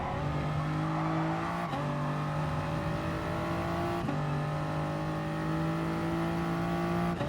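A Super GT race car engine in the Gran Turismo Sport racing game drones loud and steady, with sharp gear shifts near 1.7 and 4 seconds as the revs climb again.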